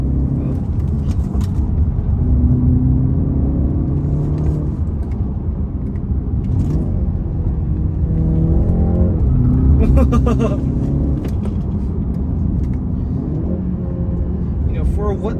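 A 2021 BMW 330i driving in sport mode, its engine a steady, loud rumbling drone that swells and rises in pitch under acceleration, with people talking over it throughout.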